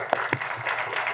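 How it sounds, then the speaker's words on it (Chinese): Audience applause at a teachers' SDGs and gender equality education lecture, a short burst of hand clapping that stays steady and moderately loud throughout, with no voices over it. "大家就用力鼓掌"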